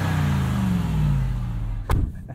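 A supercharged 2021 Ram 1500 TRX pickup holds a loud, steady engine drone with a rising whine, heard from inside during a night drive, before a brief sharp knock near the end and a quieter tail.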